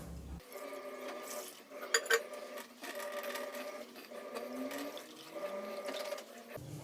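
Cold water is poured into freshly made chhena for kalakand, a continuous splashing and gurgling with a slight tonal ring from the vessel, steady and close for several seconds.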